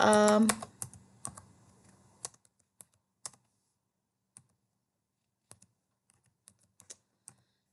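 Keystrokes on a computer keyboard while entering text into a spreadsheet cell, a quick burst of clicks at first and then sparse, isolated taps spaced through the rest, close and crisp.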